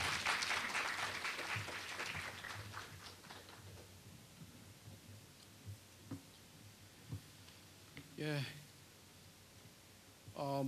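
An audience at a Korea University KU-KIST entrance ceremony applauds, a full burst of clapping that fades within a few seconds, leaving a quiet hall with scattered faint knocks and a brief voice near the end.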